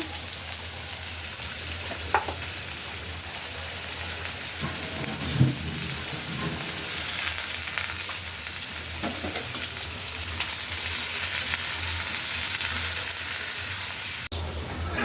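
Bitter gourd fries in a pan with onion, green chili and salt, giving a continuous close sizzle like heavy rain, with occasional soft knocks of stirring.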